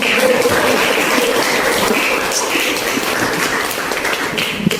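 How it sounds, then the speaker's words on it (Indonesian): A group of people in a classroom applaud steadily, a loud continuous patter of many hands clapping that holds level for nearly five seconds. "Betul, tepuk tangan"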